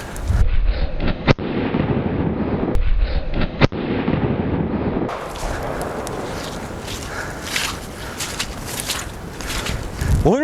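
A cheap Amazon fire extinguisher discharges on a gasoline fire as a loud, continuous roaring hiss, broken by two sharp bangs early on and then a steadier broadband rush until the end.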